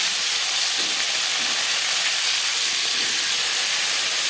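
Cauliflower and flat beans frying in hot oil with panch phoron and dried red chilli, giving a loud, steady, close hiss and sizzle that never lets up.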